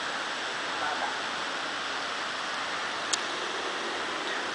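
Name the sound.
rushing water at Hinulugang Taktak falls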